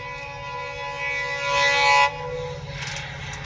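A train arriving at a station, its horn sounding in long sustained tones over a low rumbling engine drone, fairly loud and close, with the horn cutting off and a faint rattle following, no voices.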